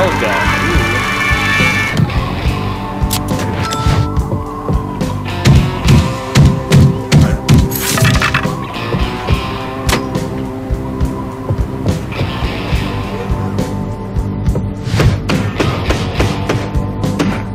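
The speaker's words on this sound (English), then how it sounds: "Nail gun." Nail gun firing in the Dead Block video game, sharp repeated thumps and clacks set among game music and effects. The hits come in irregular clusters at close range.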